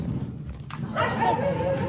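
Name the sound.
dog barking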